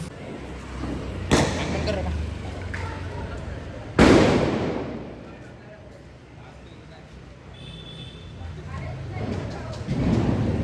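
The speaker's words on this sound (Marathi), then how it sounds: "तर चला मस्त आता आपण पण फोडूया सर्व फटाके." Diwali firecrackers go off outdoors, with two loud sharp bangs whose blasts ring out and decay over a constant crackling, noisy festive background, while people talk nearby.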